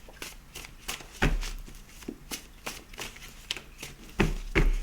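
Handmade oracle card deck being shuffled by hand, a series of crisp riffling bursts and soft papery flicks in an irregular rhythm, close and fairly quiet, with a couple of louder slaps as the cards settle.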